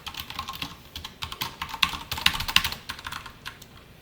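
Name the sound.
typing code on a computer keyboard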